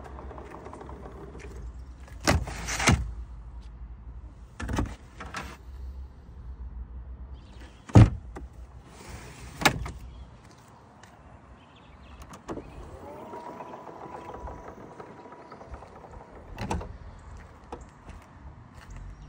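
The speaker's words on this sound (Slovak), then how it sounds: "Elektrické otváranie 5 dverí." Electric power tailgate opening on a Volkswagen Passat Variant 2.0 TDI estate, with a soft motor whir and a few sharp mechanical clunks and latch clicks spread through the clip, close and fairly quiet, with no talking.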